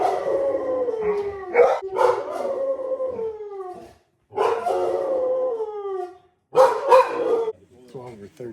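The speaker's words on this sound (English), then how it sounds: "I think the dogs are ready to go." Hunting dogs on a bird-hunting ranch howl and bark close by in drawn-out, falling howls broken by sharp barks, several bursts with short silences between.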